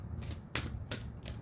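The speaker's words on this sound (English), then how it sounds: "I just shuffled these cards" A deck of tarot cards is shuffled close by in quick bursts, each a crisp riffling flutter, four in all at a steady pace over a low background hum.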